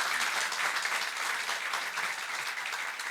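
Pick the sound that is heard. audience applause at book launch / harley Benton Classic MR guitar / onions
audience applause at book launch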